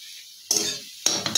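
Egg bhujia, spiced scrambled eggs, frying in a pan, near silence broken by a sudden bright sizzle and scraping stir, then two more quick stirring bursts, close and short, with no talking.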